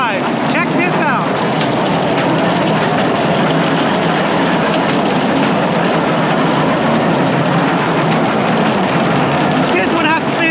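The Battambang bamboo train in Cambodia rattles along its rails with a loud, continuous engine roar and clattering mechanical noise. The sound holds steady and close the whole way, with brief squealing tones near the start and end.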